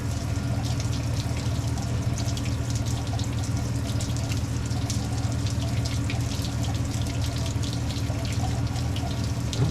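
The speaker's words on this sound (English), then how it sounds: "I saw a bunch of green antifreeze come out though." Green antifreeze draining out of the heater core of a 1969 Ford F250, a steady close trickle and splash of liquid running without pause, no talking.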